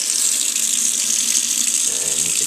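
A white kitchen sink faucet runs with a steady, loud hiss of water, continuous and close, with no other sounds over it.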